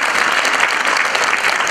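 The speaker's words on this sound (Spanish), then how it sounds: "fuerte este aplauso porque así hemos comenzado el certamen" An audience at a jota Christmas carol concert in Caparroso applauds, a brief burst of steady, dense clapping filling the hall without pause.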